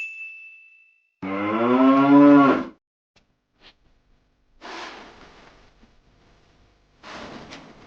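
A cow gives one long, loud, rising moo close by, followed by two shorter, quieter lows separated by silence, with a brief tone at the start.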